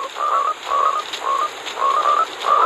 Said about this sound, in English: We got frogs in here?